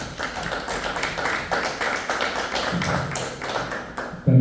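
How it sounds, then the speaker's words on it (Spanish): An audience applauds at a talk on the Haitian revolution and international solidarity, a sustained run of dense, fairly loud hand claps that goes on for several seconds. "Pido un fuerte aplauso para ellos."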